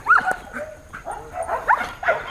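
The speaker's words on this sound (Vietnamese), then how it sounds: "Chó Malinois là một cái dòng chó working dog, nó có rất nhiều năng lượng nhé." A Belgian Malinois working dog at a dog training center barks in a quick series of sharp, close barks with a few yips, loud and mostly alone over faint background noise.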